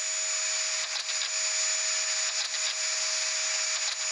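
A vacuum cleaner runs continuously in a night-worker horror video game, a steady high whine and hiss with a faint tonal hum, unbroken for the whole stretch with no voices.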